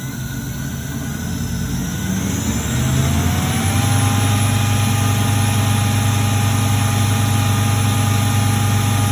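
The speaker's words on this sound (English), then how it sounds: "the only thing I'm going to change now is the motor RPM. I'm going to put it at full" Motor driving an alternator on a test rig climbs to full speed of 6000 RPM, a close engine whine rising after a few seconds and then holding loud and steady with a high tonal hum.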